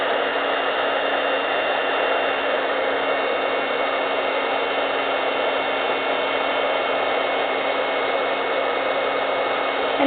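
A heat gun blows steadily for about ten seconds as it melts embossing powder on a faux tin ceiling panel, a constant close airy roar with no break or change in level.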